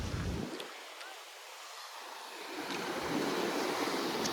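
Sea waves at Kochi Fort beach, a broad washing surf roar with wind buffeting the microphone, dipping briefly before swelling back in; boats are around.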